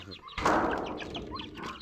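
Chickens cluck and chatter close by, a busy flutter of short calls over a rustling, scratchy background.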